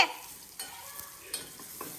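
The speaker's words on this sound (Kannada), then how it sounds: "ಒಗ್ಗರಣೆ ಕೊಡ್ತಾ ಇದ್ದಾರೆ ಬೆಳ್ಳುಳ್ಳಿ ಸಾಸಿವೆ ಜೀರಿಗೆ ಕರಿಬೇವು ಹಾಕ್ಬಿಟ್ಟು" Garlic, mustard seeds, cumin and curry leaves crackle and sizzle in hot tempering oil, with a few sharp stirring scrapes breaking through the steady fizz, close and without talk.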